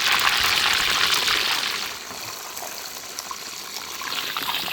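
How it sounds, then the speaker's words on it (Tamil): Chicken 65 pieces deep-frying in hot oil at a Madurai roadside stall, a steady loud bubbling sizzle that eases slightly midway and then continues without talk. "இப்போ இதை எண்ணெயில் போட்டு பொரித்து முழு வேக்காட்டில் எடுத்துக்க போகிறோம்."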